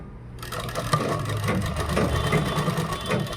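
Sewing machine stitching a kurta, starting up after a brief lull and then running as a steady, close mechanical rattle with a faint rhythmic tapping throughout.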